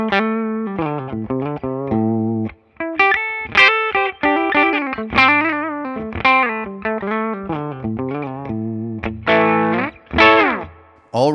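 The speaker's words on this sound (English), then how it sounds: "let's crank up the gain a bit on this and see what we can get out of it" An electric guitar through a Mesa/Boogie amp simulation with the gain raised plays crunchy, distorted chords and quick riffs, the phrases close and continuous with short breaks.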